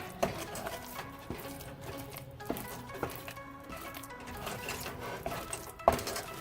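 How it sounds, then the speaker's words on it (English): A spoon scrapes and clinks against the bottom of a pot while mochi is stirred, producing soft irregular scraping with occasional sharper knocks, faint and close. "keep it moving and make sure you're scraping the bottom all over"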